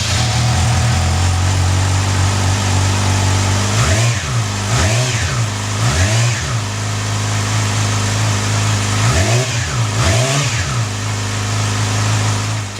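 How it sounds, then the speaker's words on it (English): Yamaha R6 sport bike with its stock exhaust, started and idling steadily with a few sharp throttle blips, loud and close throughout. "now I'm going to start the bike, allow you to hear the exhaust stock"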